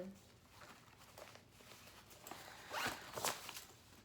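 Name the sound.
zipper on a bag being opened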